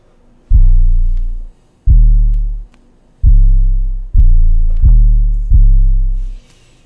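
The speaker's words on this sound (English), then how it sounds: "this is what the melody sounds like for the 808" 808 bass melody for a beat: six deep, booming sub-bass notes with sliding pitch, each swelling and decaying over about a second, played alone with short gaps between.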